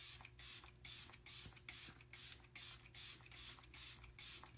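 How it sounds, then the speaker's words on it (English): A run of about nine short pump sprays of makeup setting spray in a steady rhythm, each a brief airy hiss, close by with no talking. "we're gonna set with a little bit of the Matte On Lock setting spray from Hard Candy"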